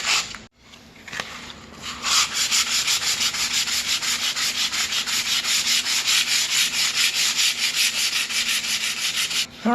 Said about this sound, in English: Do our best to sand it smooth.